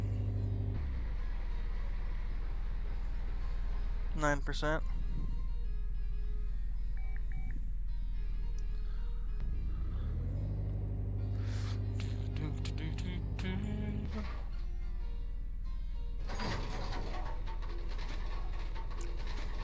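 An engine hums steadily as a car drives along the test path in the video game Car Mechanic Simulator 2018, its pitch rising and falling with a few clicks and scrapes on top and a brief voice partway through.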